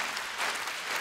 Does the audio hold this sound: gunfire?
no